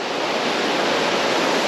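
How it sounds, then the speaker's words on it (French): A big waterfall on the Cher river gives a continuous, loud rushing roar of falling water, dense and unbroken throughout, with no voices. "Parce qu'il y a une grosse cascade."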